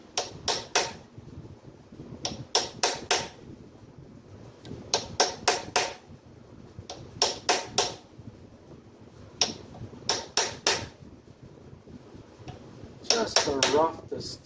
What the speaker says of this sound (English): And what I'm doing is I'm just using a punch.